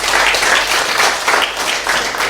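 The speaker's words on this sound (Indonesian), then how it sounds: "Berikan tepuk tangan yang dahsyat bagi dia" A church congregation breaks into loud applause, dense clapping surging in waves over about two seconds.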